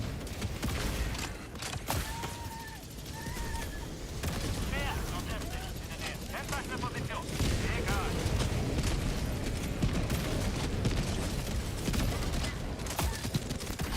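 Shotgun fire in a video game, heavy repeated booms and blasts under constant battle noise, with voices talking throughout.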